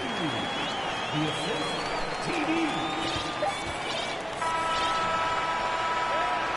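Crowd applause and cheering fill an arena in the NBA 2K23 basketball video game, a continuous wash of clapping and crowd noise with scattered higher tones mixed in throughout.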